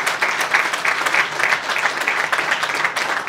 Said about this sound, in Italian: Continuiamo con l'applauso, così vince anche un pochino l'emozione.